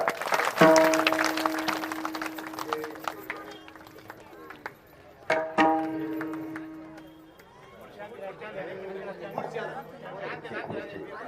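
Audience clapping at a Marathi kirtan religious gathering, a scattered burst of applause rising near the end over a hall full of harmonium-like tones and someone speaking loudly.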